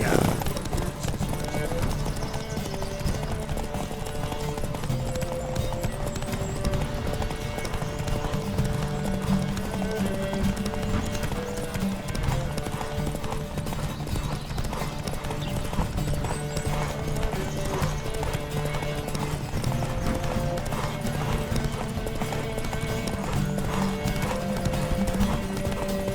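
A horse galloping in a race in The Witcher 3 video game, a fast steady clip-clop of hooves throughout with an occasional whinny over music, with speech also heard.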